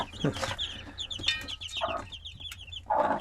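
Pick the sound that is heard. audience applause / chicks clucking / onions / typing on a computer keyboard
chicks clucking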